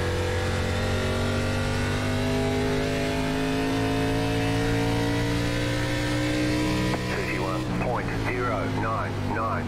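A NASCAR ARCA Series race car engine at full throttle on the New Hampshire Motor Speedway oval in iRacing, droning steadily with sustained harmonic pitch, loud throughout, while someone talks over it.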